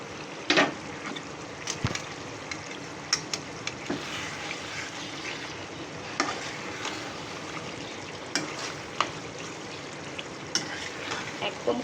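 Liver curry frying in oil as cumin powder goes in, giving a steady, close sizzle with scattered sharp clinks and scrapes of stirring throughout, no voices.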